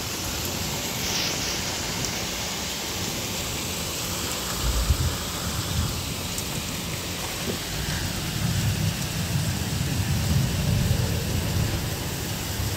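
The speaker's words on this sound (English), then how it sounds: "That's how heavy the rain is." Heavy tropical rain pours down in Tulum near Cancun, a dense, steady hiss that swells louder toward the end, with a faint low rumble underneath.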